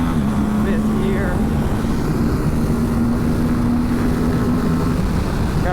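Aprilia RS 457 parallel-twin sport motorcycle accelerating in fifth gear on a track straight, a steady loud engine drone with strong wind rush throughout, close and continuous.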